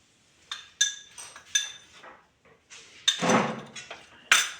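A spoon stirring amla lehya with ground black pepper and cardamom in a pan off the heat, giving sharp metallic clinks and scraping strokes at an irregular pace, close and clear with no speech.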